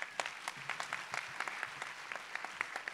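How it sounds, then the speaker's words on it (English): Audience applause for the speakers at a public lecture, heard as a steady patter of many hands clapping at moderate volume, with no talking over it. "Keep that applause going."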